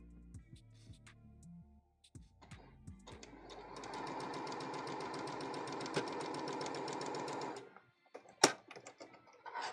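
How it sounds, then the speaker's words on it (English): A sewing machine stitches through very lightweight cotton fabric in a steady mechanical run lasting several seconds, preceded by a few soft handling clicks and ending with a sharp click. "Then we will sew it through."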